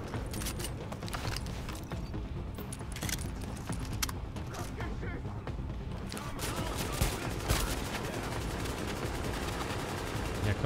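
Dense gunfire in the game The Division during a hard mission, loud rapid automatic bursts and clattering shots crowding the whole stretch, close and continuous, with no clear talking.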